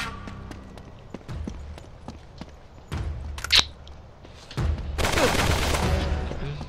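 Gunfire in the Uncharted 3: Drake's Deception video game: scattered sharp shots and cracks, then a louder, denser burst of firing near the end, with some speech mixed in.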